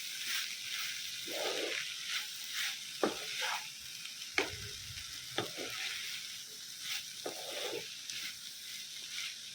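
Spiced cheese samosa filling is stirred and mixed in a sizzling pan, with a faint continuous frying hiss and occasional soft spoon knocks and scrapes, and no speech.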